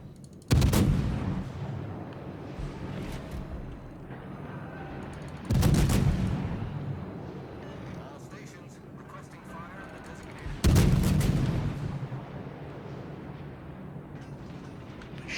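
Three heavy booming salvos from warship main guns in the naval battle game World of Warships, each a loud deep blast spaced about five seconds apart that rumbles and decays slowly, with the player talking in between.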